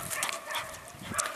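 A dog gives a couple of short, close yips and whimpering barks on a farm with alpacas, brief bursts over a rough outdoor background.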